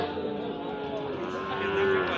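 Sahiwal cattle low with a sustained, droning moo at a rural livestock market, the call near and steady over a busy background murmur.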